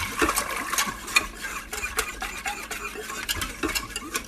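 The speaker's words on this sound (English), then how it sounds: "Give this mixture a good bit of salt and then whisk it up so there aren't any pockets of dry cornmeal in the pot" Whisk scraping and stirring a cornmeal polenta mixture with salt in a pot, quick irregular clicking and swishing strokes, close and steady with no talk.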